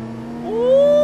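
Race car engine in a VR drifting game at Lime Rock, a steady loud drone that rises in pitch as the revs climb toward the end, with no talk over it.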